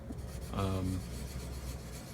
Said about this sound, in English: Just kind of letting the weight of the eraser and the sandpaper itself do its thing.